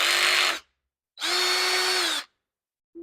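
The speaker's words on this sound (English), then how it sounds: "let's place the 1/4 inch bit into the driver" A power drill with a carbide countersink bit whirs loudly in two bursts separated by a brief pause, followed by the start of a third burst.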